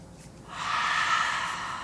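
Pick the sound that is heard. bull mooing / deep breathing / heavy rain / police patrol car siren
deep breathing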